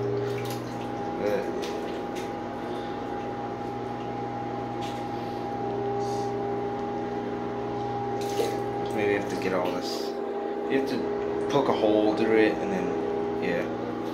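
A miniature 1970s Briggs Abingdon toilet flushes, its water rushing and trickling steadily for about fourteen seconds, with occasional drips and a person talking over it.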